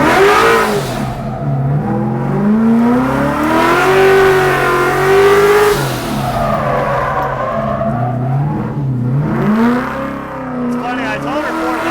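Car engine screaming at high revs, around 6,000 RPM, while drifting around cones at a Ford festival, the pitch swelling and dipping in long sweeps with a steady close roar and talk over it.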